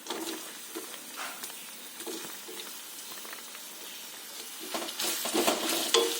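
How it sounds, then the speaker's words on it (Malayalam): Sliced onion frying in hot oil with curry leaves and green chili for a Kerala vegetable thoran, a steady close sizzle with scraping stirs that grows louder toward the end, with no talking. "സവാള ചെറുതായിട്ടൊന്ന് വഴങ്ങി വരണം."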